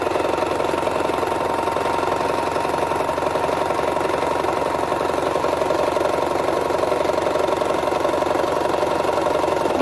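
A sewing machine quilts fabric for placemats and napkins, its steady motor hum and rapid needle chatter running evenly at close range with no pauses and no voices.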